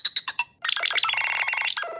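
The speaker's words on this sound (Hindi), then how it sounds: "आप इसमें अपने हिसाब से भी कोई रिंगटोन लगा सकते हो।" A Nothing Phone 1 plays its ringtone: a few quick bright electronic plinks, a short pause, then a busier glitchy run of synthetic tones that fills the rest, clear and close with no speech.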